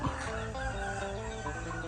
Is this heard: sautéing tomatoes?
no